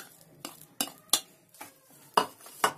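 Vegetables being stirred into a vegetable kabab mixture in a bowl, with a spoon scraping and clinking against the bowl in about six sharp, irregular strokes, close and fairly loud, with no talking.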